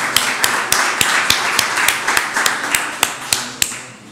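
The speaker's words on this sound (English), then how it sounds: "Round of applause for guessing numbers." Audience applause after a guessing game at a 3D printing talk, heard as sparse, spaced claps with sharp individual taps rather than a full ovation, fairly close and without talk.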